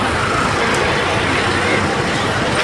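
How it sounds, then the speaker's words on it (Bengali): Local buses and road traffic rumble past on a busy city street, a steady, loud wash of engine noise with no breaks. "এই বাসগুলো আসলে এটাই হচ্ছে লোকাল বাস বিভিন্ন গন্তব্যে যাওয়ার জন্য"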